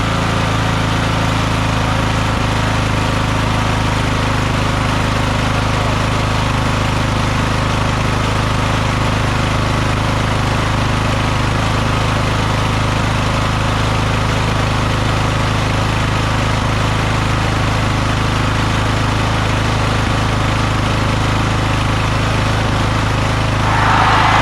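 A lawn tractor engine with its magneto kill solenoid, PTO, brake and seat safety switches bypassed runs steadily and loudly at a constant idle, a dense unbroken drone that holds throughout with no voices.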